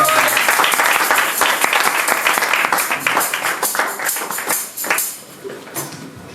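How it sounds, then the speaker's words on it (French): A church congregation applauds to acclaim the Lord during a French-language sermon, with dense, sustained clapping that is loud at first and then thins and fades as scattered voices rise. "Est-ce qu'on peut acclamer le Seigneur parce que notre Dieu?"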